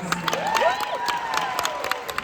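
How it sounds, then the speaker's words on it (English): An audience at a theater talkback breaks into applause and cheering, a dense wash of many hands with scattered whoops and shouts rising above it, sustained and fairly loud. "Give yourselves a round of applause"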